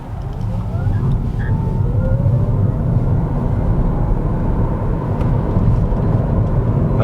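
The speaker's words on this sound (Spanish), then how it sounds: "probamos aceleración en modo Sport" A Peugeot e-208 electric car accelerates hard in Sport mode on the road, heard from inside as a loud, steady rush of road and wind noise with a faint rising electric whine.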